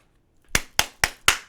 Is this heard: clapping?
yes